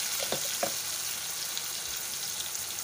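Coriander and red chilli powder roast in a pan of hot oil with a continuous close sizzle, plus a couple of soft stirring taps early on.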